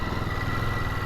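A motorcycle fitted with a quiet Euro 5 exhaust, ridden slowly, gives a steady, low, muffled engine drone that holds level and close without a break, with no talk over it.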